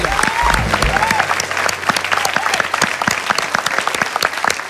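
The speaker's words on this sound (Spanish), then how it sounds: "Gracias, un aplauso." Loud, close applause from an audience, with sharp individual claps standing out over the crowd, briefly overlapped by a voice at the start.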